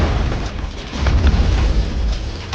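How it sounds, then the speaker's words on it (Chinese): In a thriller film scene, a car rolls off a mountain and explodes at the bottom, giving a loud, deep rumbling blast that rolls on for a couple of seconds. "在山脚下爆炸。"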